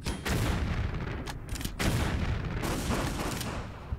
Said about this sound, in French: Pour vous montrer un petit peu les effets du lance-grenade qui sont très sympas